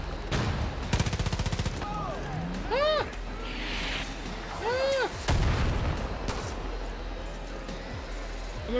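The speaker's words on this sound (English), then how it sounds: "I'm being shot at." Gunfire in the shooter Far Cry New Dawn, several sharp bursts and rapid shots at close to mid range mixed with whooshing effects, while a voice talks between the volleys.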